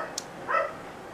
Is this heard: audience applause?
no